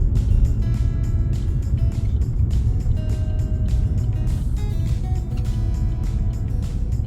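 Buses and traffic on a busy London street, a constant close engine rumble and road noise from passing vehicles, steady throughout with no talking.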